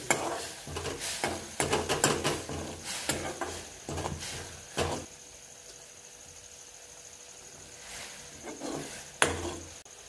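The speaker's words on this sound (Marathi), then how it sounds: "मिरचीला चांगलं तेल सोडू द्यायचं आहे।" Green chillies sizzle in hot oil over low gas while being tempered for a tomato chutney, with stirring scrapes and clinks against the pan in the first half, then a quieter steady fry alone.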